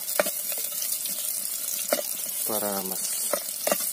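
Ginisang monggo ingredients are stirred in a pot outdoors, with scattered scraping and clinking strokes over a soft background hiss while a person talks briefly in the middle.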